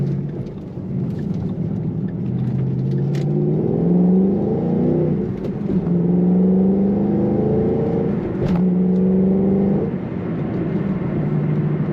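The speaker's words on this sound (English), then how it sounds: "This car sounds great and has lots of power." A 2013 Ford Mustang Shelby GT500 engine roars loudly on a highway, revving up through rising pitch sweeps as it accelerates, with a brief drop between gear changes and constant road rumble.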